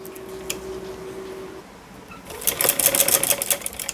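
A sewing machine stitches buckram onto fabric for a sleeve, a steady tone giving way to a rapid burst of close mechanical clatter near the end, with no talk.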